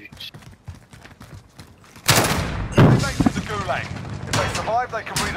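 Gunfire in the Call of Duty Warzone video game, Zombie Royale Halloween mode, with loud sharp bursts breaking in after a quieter stretch and continuing in clustered shots, while players talk over the action.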